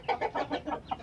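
Farm chickens cluck in a quick run of short, rhythmic calls, about six or seven close-up bursts in a second.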